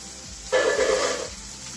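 Finely chopped ginger and garlic dropped into hot oil for tomato rice, a sudden loud sizzle that bursts up and fades over about a second, close and alone.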